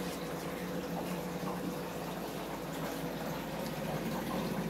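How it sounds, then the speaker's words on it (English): Water flows steadily through newly built plumbing on a reef water mixing station being leak tested, a constant faint rushing and gurgling hiss with no pauses. "I'm running water through it now."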